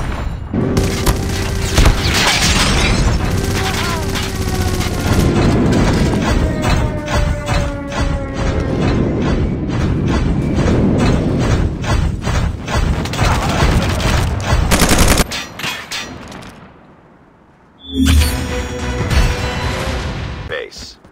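Rapid gunfire and booming impacts from a video game battle as a robot comes under attack, dense and loud throughout with a brief drop near the end before the barrage resumes; a voice speaks over it.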